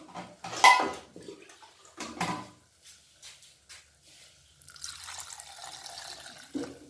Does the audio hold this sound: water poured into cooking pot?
yes